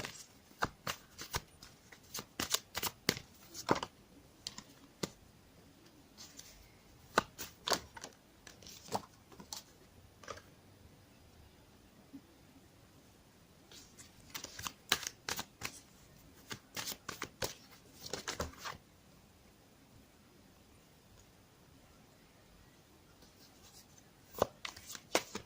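Oracle cards are shuffled and drawn in repeated quick riffling bursts and soft flicks, close and quiet, with short pauses between rounds and no talking.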